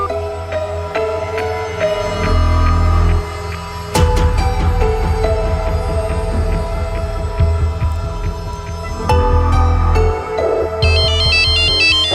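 A telephone rings with a repeating electronic ringtone, loud and close, over a low throbbing hum of dramatic background music in a crime drama scene; no voices.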